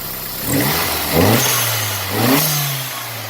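A turbocharged Miata engine with a blow-off valve, built to run 19 PSI, revving up close, rising and falling in two or three throttle blips over a rough idle, loud and alone.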